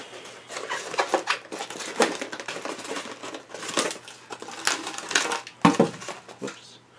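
Cardboard packaging box of an Eaglemoss Elder Predator figurine being opened, with irregular crinkling, scraping and tapping handling noises close by, scattered across several seconds with sharper clicks near the end.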